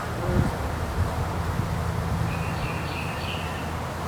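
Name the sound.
bees buzzing in a hive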